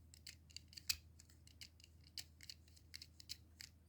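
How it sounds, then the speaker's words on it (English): A Beyblade X custom drone bit is twisted and locked into its plastic driver, producing a rapid series of tiny, quiet ratcheting clicks close up, with no talking. "turn it until you feel a little bit of a click"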